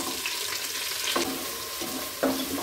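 Onion hisses in hot oil with mint and coriander leaves for biryani, a continuous bright sizzle with a few louder bursts as more goes into the pan.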